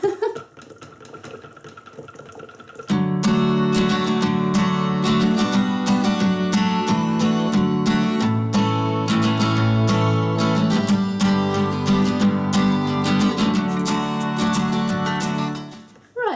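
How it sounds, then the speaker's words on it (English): A stick blender whirs through cold process soap batter, bringing it to a thick trace. After a few seconds of quiet handling, the motor starts abruptly and runs loud and continuous for about thirteen seconds before cutting out. "I'm going to bring back in the stick blender, and I'm going to blend this up to a thicker trace"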